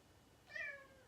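A pet cat, a female kitty indoors, gives a single short, faint meow-like cry lasting about half a second against a quiet room.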